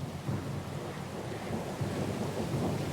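Stormy weather at sea in Pillars of Eternity II: steady, dense rain hiss beneath low rumbling thunder that swells and rolls throughout, with no pauses.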